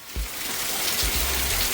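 Heavy early-morning downpour in a rural village, a steady broadband hiss of rain filling the whole stretch, with a few low thumps near the start and around the middle.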